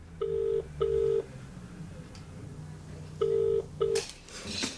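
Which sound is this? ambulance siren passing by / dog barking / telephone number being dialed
telephone number being dialed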